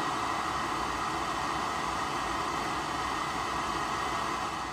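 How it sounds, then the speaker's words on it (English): A steady, unbroken wall of roaring noise hangs at one level throughout, with no beats or rhythm, like a kick drum smeared into frozen reverb. "Then we play the kick through the reverb and switch the freeze on, so you just get this wall of noise."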